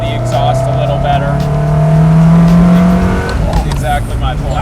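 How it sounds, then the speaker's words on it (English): A Ferrari with a gated manual gearbox revs loudly and close, its exhaust note climbing in a steady rising drone, then dropping sharply into a rougher burble near the end. "The manual gearbox, you can control the revs, so you can hear the exhaust a little better."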